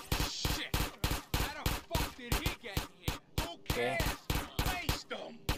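Repeated gunshots in the video game GTA San Andreas, loud, sharp reports fired one after another in a steady rhythm over about five seconds, with a brief spoken word at one point.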